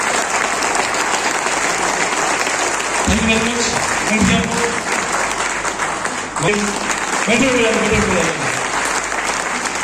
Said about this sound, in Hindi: आपने तालियां जोड़ा।